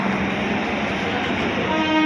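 Steady rumble of a stationary train at Belapur station with a busy platform hum around it, a faint tone rising near the end.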